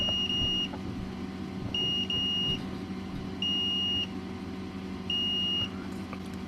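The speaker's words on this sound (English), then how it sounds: "now let's test the connection with the multimeter just to make sure that everything is soldered correctly" Repeated short high beeps from a multimeter continuity test on a soldered fan connector of a Mac Mini, four evenly spaced tones over a steady background hum, no voices.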